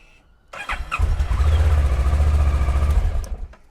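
Kawasaki Versys 650 motorcycle with a fuelling fault cranks and fires, its engine catching and running at a loud, steady rumble for a couple of seconds before cutting out again, with a few clicks at the start.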